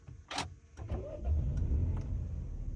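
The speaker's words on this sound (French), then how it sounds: "Et elle démarre, donc on est sur un moteur essence en boîte manuelle." Petrol engine of a Citroën C4 Picasso with manual gearbox cranks briefly and fires, then settles into a steady low idle, heard close up with no talking.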